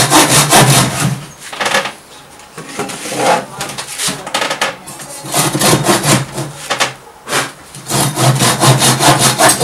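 A hand saw rasps through wood in repeated back-and-forth strokes, loud and close, with short pauses between bursts of cutting.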